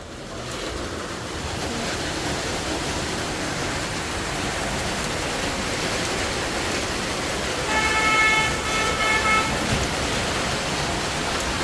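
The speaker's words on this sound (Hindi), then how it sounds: "बाहर हो रही है बहुत तेज़ की बारिश" Heavy rain pours outside in a steady, loud, broadband hiss, with a brief tonal horn-like sound near the end and no talking.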